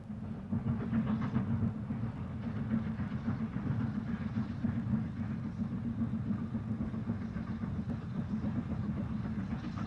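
A steam locomotive on the North Yorkshire Moors Railway in October 1987, cresting the steep 1 in 49 gradient from Grosmont to Goathland, gives a steady, heavy low rumble with faint rhythmic clatter, continuous and without voices.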